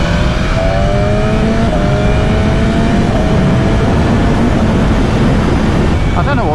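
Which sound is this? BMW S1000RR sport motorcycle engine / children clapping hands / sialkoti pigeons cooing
BMW S1000RR sport motorcycle engine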